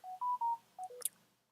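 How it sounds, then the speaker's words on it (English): A mobile phone on a desk during a live market broadcast chirps with a rapid run of short electronic notification tones, a few clear beeps followed by a quick higher blip, then it falls quiet. "my phone's going ballistic right now."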